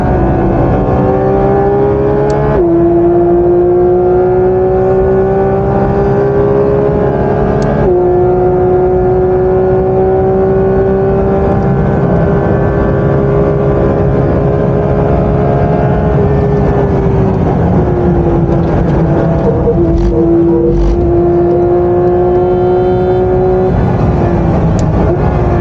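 Porsche 992 GT3 RS race car driven flat out at Spa, a loud onboard engine howl rising in pitch through the gears, with sharp drops at each upshift and heavy road and wind roar beneath.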